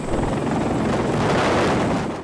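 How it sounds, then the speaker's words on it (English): CH-53K King Stallion heavy-lift helicopter, a continuous loud, broadband rotor and turbine roar with a faint fluttering pulse, heard alone throughout. "today we will look at the King Stallion heavy lift helicopter"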